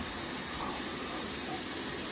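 Water pouring from a black rain-style shower head in a bathroom under construction, a steady hissing spray, fairly quiet and continuous with no talking.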